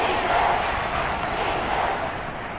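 Stadium crowd noise in the Madden 23 football video game, a steady broad roar of cheering that swells slightly then eases as a big third down approaches, with no voices distinct over it.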